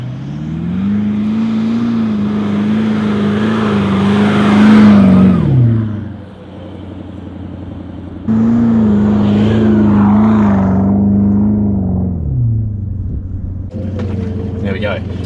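A Toyota Land Cruiser LC200 with traction control and VSC switched off drives up sand dunes. Its engine revs loudly in a long rising pull, drops away, then surges into a second sustained climb.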